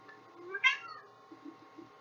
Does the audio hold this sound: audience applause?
no